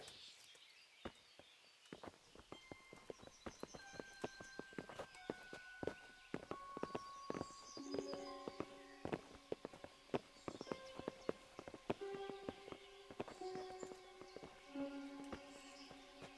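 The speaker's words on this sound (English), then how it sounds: "Bring the horses." Horses clip-clopping in the video game Kingdom Come Deliverance: a quiet, steady run of hoofbeats with a sustained tonal score playing underneath.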